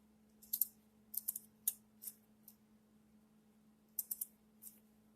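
Small scissors snip loose threads from knitted ribbing during a garment repair, a few quiet clusters of crisp clicks spaced irregularly over a faint steady hum.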